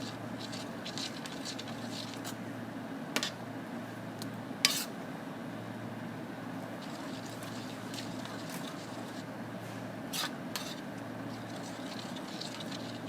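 A utensil stirring butter into a pan sauce makes sparse, light clinks and taps against the pan over a steady low hiss of simmering, with no talk.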